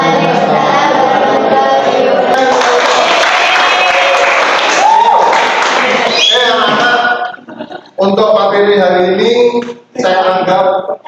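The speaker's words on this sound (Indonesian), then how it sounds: "Tepuk tangan yang mulia untuk kelompok 2" A classroom of students applauds a student group, clapping mixed with children's voices for several seconds before breaking into shorter bursts of voices.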